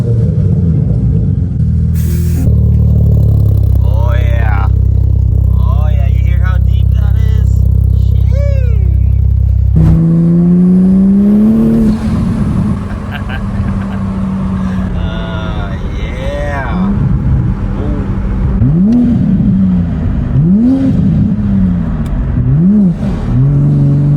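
A Toyota Supra with a 5-inch titanium single-exit exhaust revs hard, a deep steady drone, then rising and falling blips in repeated throttle sweeps, loud and close throughout.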